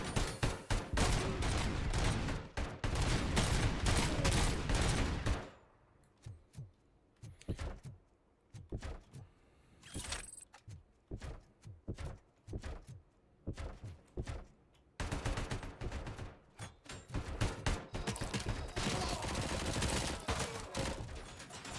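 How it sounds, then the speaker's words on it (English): Rapid bursts of ED-209 robot gunfire in a Robocop video game, loud sustained volleys at the start and end with sparser individual shots and thuds in between. "Does Ed 209 just like take any opportunity to give me pop shots?"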